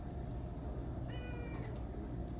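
A feral cat in Japan, out near deer, gives a single short, faint meow over a steady low background rumble, with no talking.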